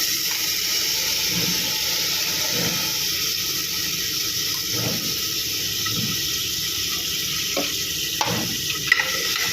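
Onion frying in hot oil with a loud, constant hiss, overlaid by soft periodic thumps of stirring and a few sharper clinks of a utensil against the pan near the end.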